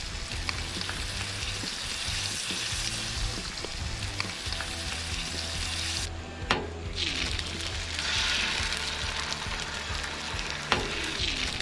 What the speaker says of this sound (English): We're putting the eggs on the griddle next.